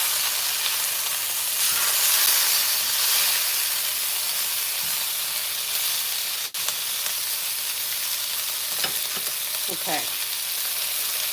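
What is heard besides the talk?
herb crusted lamb chops sizzling in a pan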